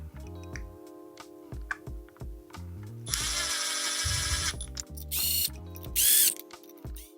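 Ratcheting wrench tightening the water pump cover bolts on a Kawasaki KFX450R engine, with rapid clicking ratchet bursts between pauses and several louder whirring power-tool bursts near the end, close up and without talk.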